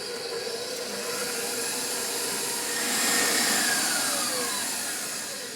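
Electric hand mixer beating eggs for a gluten-free lemon curd tart, a steady loud motor whir running unbroken throughout with a slight swell in the middle, no voices.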